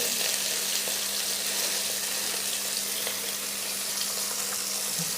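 Catla fish crackles and sizzles in hot oil, a constant close frying hiss with faint occasional pops and no voices.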